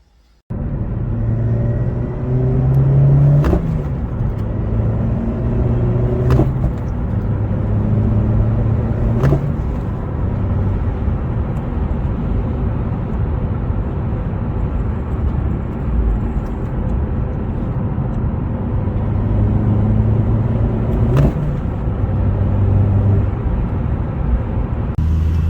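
A Vauxhall Corsa VXR tuned to pop and bang on every gear change drives and accelerates, with a low, close engine rumble broken by several sharp, isolated cracks spaced a few seconds apart.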